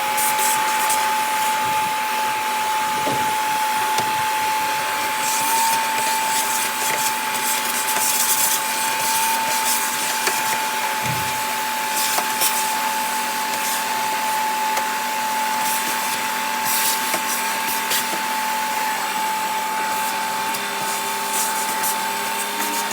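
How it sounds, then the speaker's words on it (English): A vacuum cleaner runs steadily with a constant whining hum and airy roar, with a brief thump partway through. "I'm just gonna use the vacuum."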